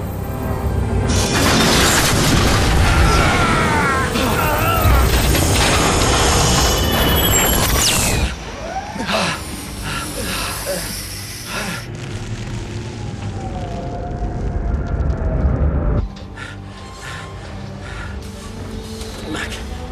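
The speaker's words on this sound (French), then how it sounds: "je vais faire exploser cette maudite tour" A tower blows up in a science fiction action film, with a loud, sustained roaring blast and crashing debris that cut into a lower rumbling roar, then a further shift in the din, and no clear speech.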